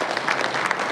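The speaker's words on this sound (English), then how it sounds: "I want you to give a big clap for all the students" An audience at a college of engineering event claps for students in a brief, dense burst of applause that fills the room for under a second.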